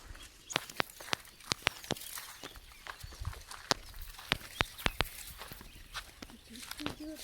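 A mare walks with sharp, irregular hoof clip-clops over a faint outdoor background, moderately distant, the steps continuing throughout.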